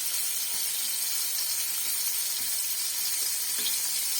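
Chicken wings frying in a pan, a dense and constant hissing sizzle that stays close and even throughout, with faint low knocks underneath.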